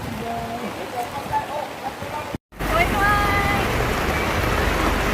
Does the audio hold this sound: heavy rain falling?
yes